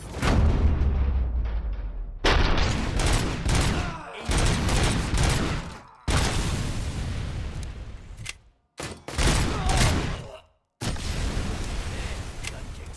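Heavy gunfire from RoboCop: Rogue City erupts in dense bursts of loud volleys and booms, broken by a few brief silent gaps between engagements.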